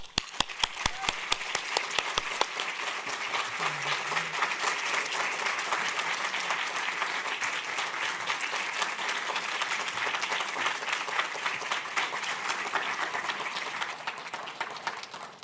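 A hall audience at a Juneteenth celebration at the University of Rochester welcomes Dr. Shane Campbell Staten to the stage with sustained, even applause. It starts with a few distinct claps and swells into a full crowd ovation that fades slightly toward the end.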